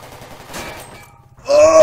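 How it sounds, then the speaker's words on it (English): Heavy pistol gunfire in the video game Cortex Command: a burst of sharp, loud shots with a clattering tail, preceded by a quieter stretch of game noise. "that's the heavy pistol"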